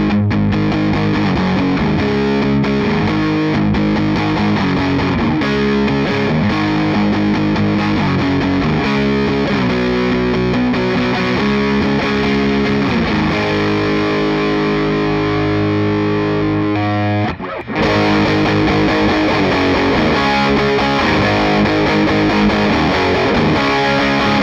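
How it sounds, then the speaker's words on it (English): Heavily distorted electric guitar through an amplifier's distortion channel plays chords and riffs continuously and loudly, with a brief break near the end before resuming. "let's do the same thing on the distortion channel"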